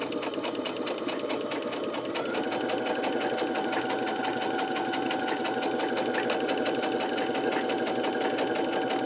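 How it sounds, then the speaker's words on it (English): A Brother SE625 sewing machine fitted with a twin needle runs a straight stitch, giving a steady, close mechanical whir with a fast, even needle rhythm that continues without pause and without talk. "I have my straight stitch selected, and I'm going to go ahead and start sewing."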